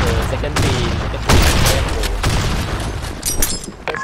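A grenade goes off in a video game, with a loud booming blast partway through amid continuous gunfire and battle noise, and a voice talks over it.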